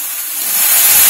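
Tomatoes drop into hot oil with mustard seeds in a pan for macaroni, giving a loud, close, steady hissing sizzle that swells as it goes.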